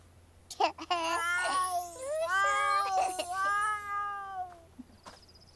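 A cat in The Sims 4 meows while being petted, a clear drawn-out, wavering meow that rises and falls, close and alone over a faint background hum.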